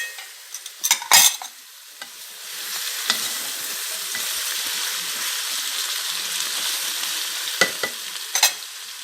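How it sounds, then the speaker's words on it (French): Veal browning in a cast-iron casserole with carrots and leeks for blanquette, a steady close sizzle and frying hiss broken by a few sharp clatters from stirring. "je fais revenir ma viande. Je mets mes carottes avec mes poireaux."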